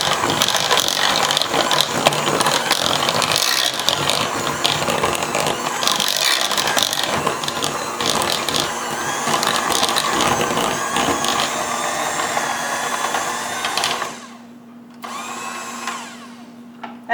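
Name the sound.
heavy-duty hand mixer beating gluten free banana muffin batter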